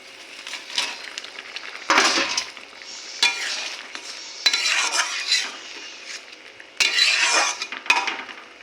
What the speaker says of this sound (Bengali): চিংড়ি মাছ দিয়ে দিলাম একটু ভালো করে ফুটুক